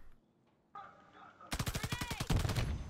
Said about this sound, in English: I'm shooting. They're shooting me.